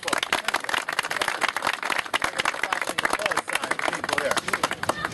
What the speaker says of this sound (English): That gets applause.